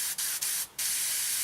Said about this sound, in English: So what we do is we just spray it